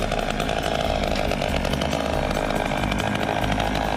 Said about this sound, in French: Allez, démarrage de la bécane.